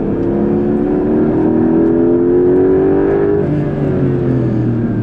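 Porsche 911 Carrera GTS hybrid (992.2) engine roaring steadily with a rising then easing engine note, loud and continuous with no talk.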